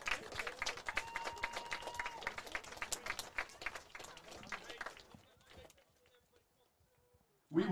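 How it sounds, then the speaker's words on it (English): At a men's college soccer senior night against Flagler, a crowd applauds in a dense patter of clapping that fades out after about five seconds, leaving near quiet before a voice begins. "Please give one final GSW round of applause for number 26, Will Carter."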